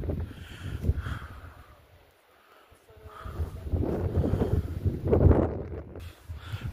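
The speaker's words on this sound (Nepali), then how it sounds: "हावा कति साह्रो लाग्दो रहेछ" Gusty wind in the Salpa Sili forest of Bhojpur, Nepal, buffets the microphone in loud, uneven surges, dropping briefly to near quiet before blowing hard again.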